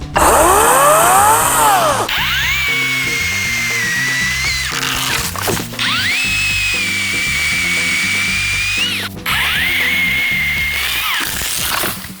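An EGO 56V electric chainsaw with a 450mm bar cuts through a tree trunk about 300mm thick. A loud, close high motor whine rises and falls in three long bursts, with short gaps between them.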